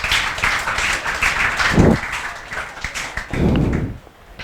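A class applauds a student with sustained group clapping, a busy patter of many hands at moderate volume, with a couple of low bumps or thuds standing out partway through.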